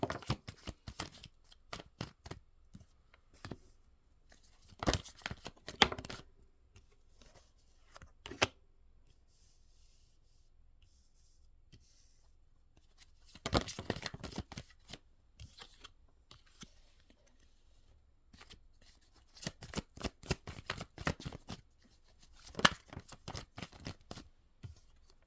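Tarot cards shuffled in bursts of riffling and flapping, quiet between rounds, with one long pause mid-way and a busier spell near the end, close and moderately soft.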